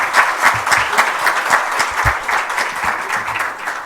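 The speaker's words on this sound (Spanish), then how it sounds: "Por favor, un fuerte aplauso de nuevo para Ignacio." Loud, dense applause from a crowd of students at a university welcome ceremony in Concepción, many hands clapping steadily and close for several seconds, unbroken by speech.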